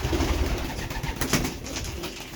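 Racing pigeons coo softly and steadily just after returning home from an old bird race, several birds murmuring together close by with a brief rustle midway.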